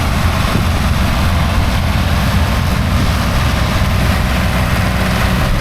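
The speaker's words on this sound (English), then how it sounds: "That's a lovely tractor, that 4-5000" Tractor working at silage in West Cork, a 4-5000 pulling a double chop harvester, a loud, steady low engine drone with no pauses and no talk.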